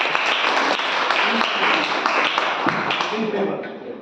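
An audience claps for debaters at a public speaking debate session, a dense, fairly loud round of applause that trails off toward the end, with voices mixed in.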